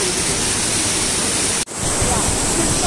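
A waterfall near Rishikesh makes a loud, dense, steady rush of water that fills the scene, broken once by a sudden momentary dropout before resuming.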